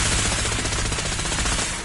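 Loud, close machine gun fire in Fallout 4 rattles out as a rapid continuous burst of shots, dense and unbroken for under two seconds.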